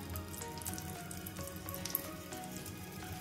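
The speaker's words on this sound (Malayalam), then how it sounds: "ചെറിയ തീയിലിട്ടിട്ട് വേണം നമുക്ക് ഈ പിസ്സ തയ്യാറാക്കി എടുക്കാൻ" A pizza cooks in a pan over a low flame, giving a soft, steady sizzle of frying with light crackles throughout and no voices.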